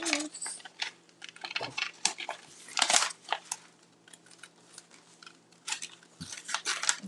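Scissors snip and crinkle around a rose shape during paper crafting, a run of quick, close cutting sounds with rustling paper and no talk.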